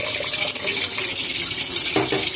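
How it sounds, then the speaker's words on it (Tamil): Water pours steadily into a pot of sambar on the stove, a continuous splashing gush close by, with a brief change in the flow near the end. "தேவையான அளவு தண்ணி ஊற்றிக்கோங்க."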